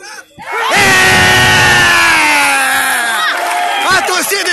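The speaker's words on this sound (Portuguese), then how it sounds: "A torcida explode" A beach footvolley crowd erupts in loud, sustained screams and cheers right after a rally, with one shrill voice rising above the roar before it slowly fades.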